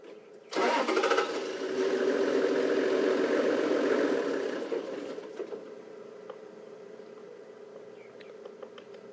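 A safari vehicle engine starts on a bush drive, catching abruptly and then running at a steady loud idle for several seconds before easing down to a quieter hum, with faint outdoor sounds around it.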